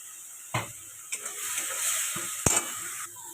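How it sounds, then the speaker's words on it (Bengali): Masala frying down in a pan with a little water for butter chicken, a steady sizzle and hiss with a few sharp stirring scrapes and clinks of the spoon against the pan. "মশলা কষানোর মতো দেবো জলটা, বেশি কিন্তু দেবো না, ভালো করে কষবো।"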